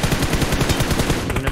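Rapid automatic gunfire from PUBG Mobile rattles in dense, loud bursts of closely spaced shots, filling the moment without any talk.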